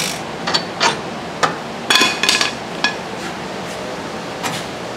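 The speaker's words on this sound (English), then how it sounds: "First step you want to do is you want to remove these 15mm bolts" A socket wrench works on 15mm bolts of a UTV's radius rods during a suspension job, giving a series of sharp metallic clicks and clanks at uneven intervals, close and fairly loud, with no voices.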